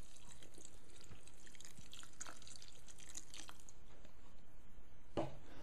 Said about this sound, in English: So just carefully pour in the water to a level that just covers the mixture, the vegetables and grains